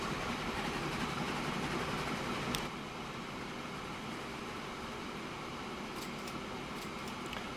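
Trains running in the video game Transport Fever 2, a steady low rolling rail hum throughout with faint clicks, quiet and unbroken by talk.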